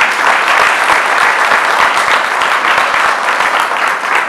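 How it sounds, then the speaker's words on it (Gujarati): Thunderous applause from the audience at a Gujarat Sthapna Divas celebration on the Gold Coast in 2016, dense, loud and continuous for the whole stretch with no break. "સૌ પ્રથમ તો તાળીઓના ગડગડાટથી જે મારી જોડે આખી ટીમ છે એમના માટે એક વાર જોરદાર તાળીઓ."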